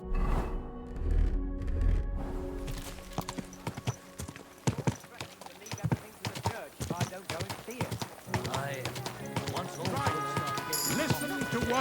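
Steady horse hooves clip-clop over a busy soundscape in the video game Kingdom Come: Deliverance II, with a horse whinnying and voices speaking throughout.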